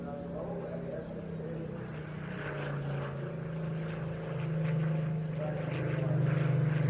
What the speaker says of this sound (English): The aircraft repositioning on the left 45 degree line is going to roll out straight towards us and then pitch up into a wing over